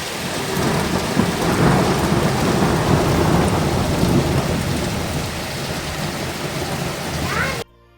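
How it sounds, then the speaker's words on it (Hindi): Heavy rain pours steadily, with small hailstones falling and thunder rumbling, a dense continuous wash of sound that cuts off abruptly near the end. "तो देखा आपने कितनी तेज़ बारिश हुई है, छोटे छोटे ओले भी गिरे हैं"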